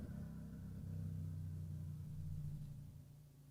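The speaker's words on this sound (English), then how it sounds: "When you hear like a no exhaust vehicle go by" A vehicle with no exhaust rumbles past, a loud low engine drone that swells toward the middle and fades away, with no voices over it.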